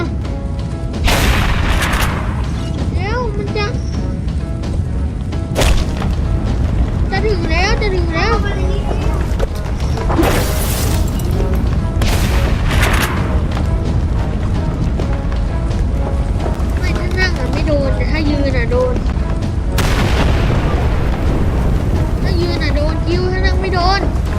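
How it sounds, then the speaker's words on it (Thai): Explosions in a video game, heavy booming blasts recurring several times over a dense, loud, continuous rumble, with excited talk running throughout. "มันจะระเบิดแล้ว รีบกลับดีกว่า"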